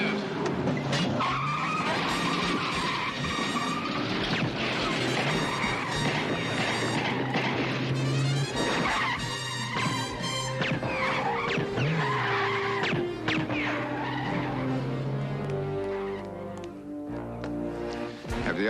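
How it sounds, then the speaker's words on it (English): Cars racing hard on cold engines, with loud, sustained tire squeals and skids over roaring engines, continuous and close throughout, joined near the end by a brief rising squeal. "It's not good to race a car that way when it's cold."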